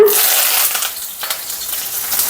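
A sudden burst of loud crackling sizzle as curry leaves hit hot coconut oil with mustard seeds, easing to a steadier hiss.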